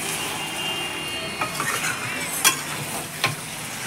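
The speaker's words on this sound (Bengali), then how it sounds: "ভালো করে নাড়াচাড়া ঝাঁকা করে নেব চিকেনটাকে" Chicken pieces, including leg pieces, are stirred and tossed in a pan for chicken kosha. A constant close sizzle carries a few sharp scrapes and knocks from the spoon.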